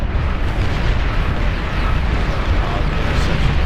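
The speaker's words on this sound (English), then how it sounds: "Long-range plasma cannon" Long-range plasma cannon firing in the strategy game Beyond All Reason, a dense, continuous booming roar of blasts and rumble filling the whole stretch at steady loudness.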